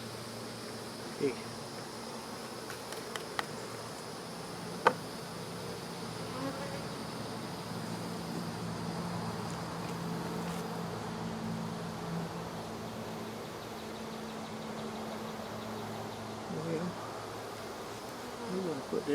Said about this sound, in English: Get all these little bees out of the super.